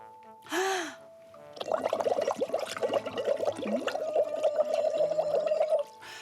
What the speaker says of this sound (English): blow through the straw into a bowl of water